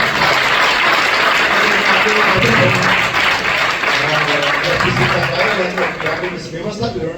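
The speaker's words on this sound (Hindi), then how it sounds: "हमें प्रभु को तालियां देंगे।" Applause from a church congregation during a Hindi-language worship service, a dense wash of clapping that fills the room and holds steady before easing slightly at the end, with voices mixed in under it.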